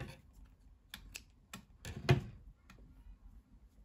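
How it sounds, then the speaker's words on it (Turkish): Scissors snip through knitting yarn, giving a few small dry clicks and one louder cut close to the mic, with no talking. "İpliği kesiyorum."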